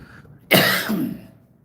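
A single harsh, loud cough close to the listener, followed by a short fading breathy tail.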